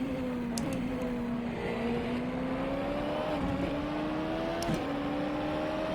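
A Nissan GT-R GT500 race car in rFactor 2, its engine droning steadily at a held pitch with slight rises and dips, close and continuous throughout with no talking.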